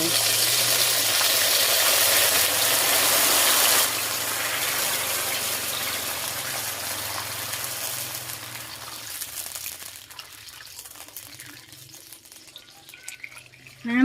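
Water poured into a pan of fried garlic for Lao stir-fried noodles makes a loud, steady rushing gush that eases into a softer sizzle and fades over several seconds.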